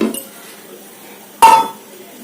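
A ragi mudda ball is transferred onto a plate, with a soft clink near the start and then one sharp, close ringing knock of dish against plate, followed by quiet.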